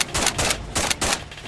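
Rapid gunfire bursts in ARMA 3, several sharp shots in quick uneven succession, loud and close, with brief gaps between clusters of rounds.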